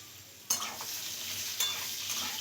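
Thin-sliced potatoes fry in a covered pan with a steady soft sizzle, broken twice by sharper bursts of stirring or lid scraping.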